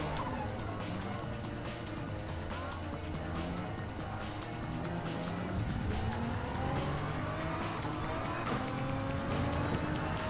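Nissan GT-R Nismo GT3 race car in Gran Turismo 7 on the Alpine Hill circuit, its engine droning steadily and rising in pitch through gear changes, with tire squeal, loud and continuous from start to finish.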